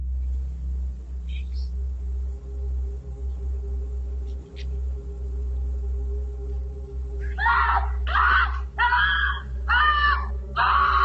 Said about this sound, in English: the next thing heard was a scream